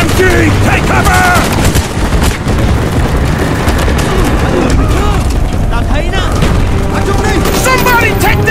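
Machine gun fire in Call of Duty: Black Ops during a village firefight in the Victor Charlie mission: loud, sustained bursts of rapid gunfire with booming impacts, and shouting voices over the battle.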